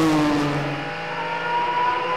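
A 1989 Porsche 962C race car sweeps past at about 145 mph under a bridge during a vintage Rolex race at the Reunion, its engine a loud, sustained roar with a falling pitch as it goes by.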